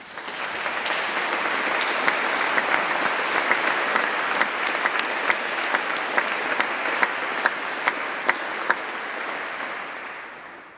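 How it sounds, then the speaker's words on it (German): Crowd at a Reformation anniversary celebration in St. Gallen giving sustained, dense applause, with a few louder individual claps ringing out over the steady wash before it tapers off. "Ich denke, das hat auch einen Applaus verdient"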